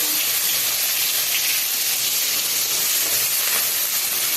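Onion, curry leaves and tomato sizzle in hot oil with popped mustard seeds, a loud steady hiss of frying filling the whole stretch, no talk.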